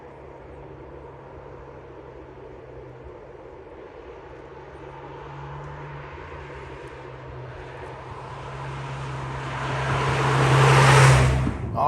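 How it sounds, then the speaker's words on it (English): A 2024 Alfa Romeo Tonale Veloce PHEV AWD drives on a street, heard from inside as a steady low road and engine hum with tyre rumble that swells louder toward the end, no talking. "Let's hit the road and take the Tonale on the streets."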